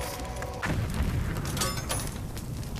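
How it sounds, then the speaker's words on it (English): The sun exploding in the video game Little Inferno, a deep rumbling boom that swells after a brief lead-in and then holds as a dense, roaring wash of noise. "And now for the sun to explode in 3, 2, 1."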